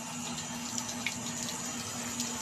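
Water from a solar-powered pump runs in a steady, continuous rush on a farm garden, with a constant hum beneath and no voices.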